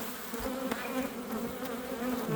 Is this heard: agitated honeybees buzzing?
yes